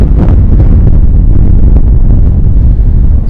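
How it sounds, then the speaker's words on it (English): Strong wind buffets a microphone on the open RAF Donna Nook bombing range, a loud, constant roaring rumble with gusty flutter and no letup. "I'm going to turn the microphone into the wind so you can experience this"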